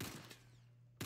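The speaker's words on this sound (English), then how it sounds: "I hear gunshots." Gunfire in a video game, a few quick bursts at the start and end over a steady low electronic hum, fairly quiet under the game's ambience.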